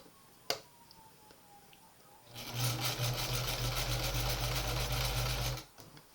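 A sewing machine stitches a quilt in a fast, loud, steady whir that lasts about three seconds and then stops. Just before it starts there is a single sharp click.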